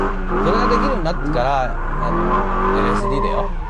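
A car drifts and slides through a turn with the e-brake pulled, tires squealing in wavering screeches over a steady engine drone, close and loud.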